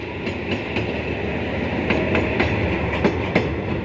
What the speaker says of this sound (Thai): 4513 ครับขบวนรถเปล่าเข้ากรุงเทพครับ มาแล้วครับ